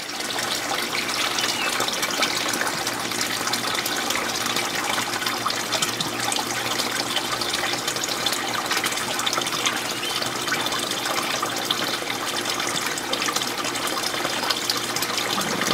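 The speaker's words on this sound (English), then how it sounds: "Let's get a temperature reading on the hot water coming out." Hot water gushes steadily from sun-warmed tubing on a solar water heater for an aquaponic setup, a continuous close splashing flow that stays constant throughout with no voices.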